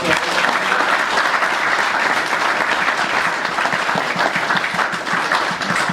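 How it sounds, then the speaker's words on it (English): A large crowd at a wedding applauds steadily and loudly, dense clapping continuing without a break throughout, with a few voices faintly mixed in. "Can we give them a big round of applause?"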